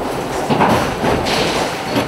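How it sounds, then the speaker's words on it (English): A press machine in a car factory cuts flattened steel into square blanks, producing a loud, dense mechanical rumble with rhythmic thuds and clatter reminiscent of a train rolling over tracks. "The flattened steel is then cut into squares called blanks inside this machine."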